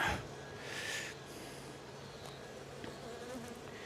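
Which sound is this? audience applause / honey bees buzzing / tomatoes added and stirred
honey bees buzzing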